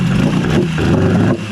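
A Yamaha 20A two-stroke outboard motor runs steadily at close range, a loud continuous mid-pitched drone with slight rises in revs that drops away near the end.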